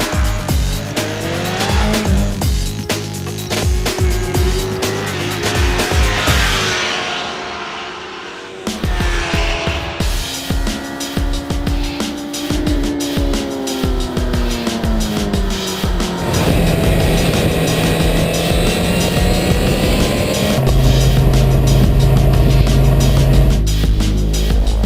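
A 2012 Honda CBR1000RR sport bike ridden on the street, its engine rising and falling through revs with gear changes, loud and close, over wind noise with a sustained steady roar toward the end.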